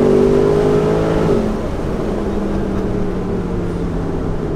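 A Mercedes SLS AMG Roadster's engine roars loudly up through the revs, the strong drone easing slightly partway through and then holding steady and close, with no talk over it.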